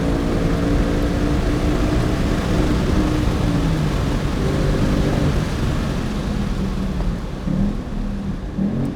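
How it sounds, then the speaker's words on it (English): A Ford Mustang Mach 1 with a Tremec manual and Handling Pack, driven hard on a track, its engine roaring loud and dense at high revs against the rev limiter, then easing off near the end. "Hit the rev limiter."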